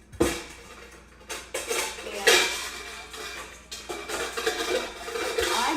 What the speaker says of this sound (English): I'm going to get a little bowl, and we're going to whisk together our liquids